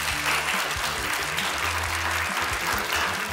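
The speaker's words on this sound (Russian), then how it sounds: "Аплодисменты." Studio audience applause at a televised game show as contestant couples are introduced, a dense, steady wash of clapping lasting the whole stretch, with a faint low musical hum underneath.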